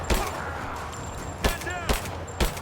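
Gunfire in the video game Rise of the Tomb Raider: several sharp shots spaced about half a second apart over a low background hum, with a voice speaking briefly between the shots.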